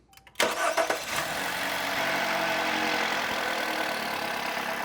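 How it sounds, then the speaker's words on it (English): A car engine cranks briefly with a few uneven bursts and then catches, settling into a steady mid-pitched idle, close and continuous, during ignition coil diagnosis. "And all right, Corey, we can go ahead and start the car, please."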